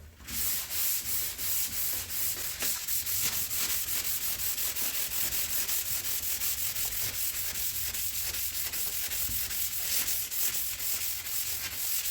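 A '57 Bel Air car body is block sanded by hand, sanding that follows earlier 80 grit work. The rhythmic, loud abrasive strokes rasp back and forth without a break, close up, and no one speaks.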